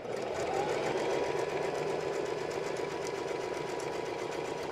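A sewing machine runs a zigzag stitch along a waistline seam, a fast continuous whirring hum with rapid needle ticking, steady and close, no voices.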